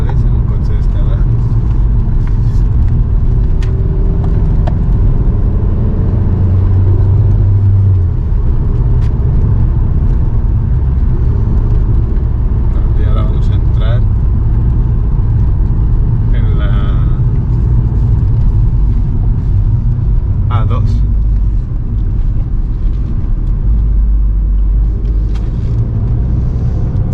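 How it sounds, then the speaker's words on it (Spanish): A steady low diesel engine rumble and road noise fill the cabin of a moving Volkswagen Golf V GTD on a potholed road, with occasional knocks and rattles from the uneven surface. "Vamos por una carretera que está bastante bacheada, no se oyen ruidos dentro"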